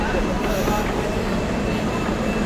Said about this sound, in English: you have to have trains to come pick you up